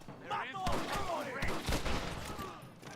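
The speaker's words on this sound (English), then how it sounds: "I bust out my Springfield rifle." Rifle fire from a Springfield rifle in the video game Red Dead Redemption, several sharp shots in quick succession over a few seconds, fairly distant and modest in level.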